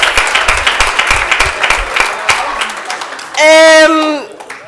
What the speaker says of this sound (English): Can we give him a very big round of applause,